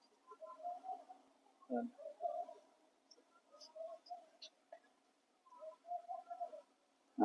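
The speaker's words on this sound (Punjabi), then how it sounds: "ਇਹ ਕਿੰਨੀ ਸ਼ਾਨਦਾਰ ਕਬੂਤਰੀ ਹੈ" A pet female pigeon gives soft, low repeated coos in short bursts, fairly faint and close, with quiet pauses between phrases.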